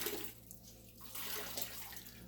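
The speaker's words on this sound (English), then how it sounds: "So I'm just going to wring it out," A soaked microfiber towel is wrung out by hand over a bucket, water splashing and trickling down steadily for a couple of seconds, close up, with no voices.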